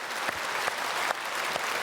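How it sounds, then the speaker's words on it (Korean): Church congregation applause during a Sunday worship service at Myungsung Church, a steady wash of many hands clapping at moderate distance, fairly soft and even, with a few slightly louder swells. "박수하겠습니다"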